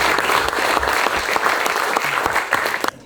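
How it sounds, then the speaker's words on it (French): Enthusiastic applause from the audience at a French refereeing awards ceremony honouring rugby, dense clapping for about three seconds that cuts off abruptly at the end. "Merci de l'applaudir."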